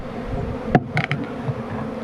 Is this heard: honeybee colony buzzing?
yes